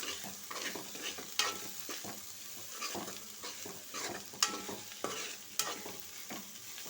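A spoon stirs broad bean and milk curry in a pan, scraping and clinking softly over a faint steady sizzle with a few sharper taps against the pan's rim, all fairly quiet and unhurried.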